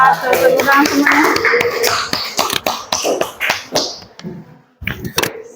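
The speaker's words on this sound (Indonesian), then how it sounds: "Tepuk tangan semuanya." A classroom group claps together in a burst of sharp, uneven hand claps that thin out and stop, with some talking mixed in near the start.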